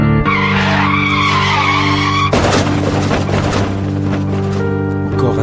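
A car skidding on a bend and crashing in a pile-up, a loud sustained tire squeal followed by a harsh burst of crashing noise, set against steady music.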